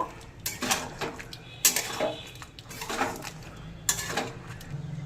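Fried potatoes, cauliflower and peas stirred in a pan for a vegetarian cauliflower dish, with a few distinct metallic scrapes and clanks of a spoon against the pan over a soft background hiss.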